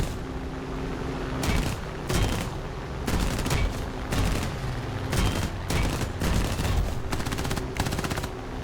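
P-39 Airacobra guns firing in War Thunder, repeated loud bursts of rapid automatic fire in short volleys with brief gaps, close over a steady aircraft engine drone.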